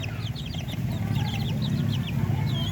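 Darag native chickens on a farm cluck in quick repeated bursts, several birds at close to middle distance over a steady low rumble of background noise.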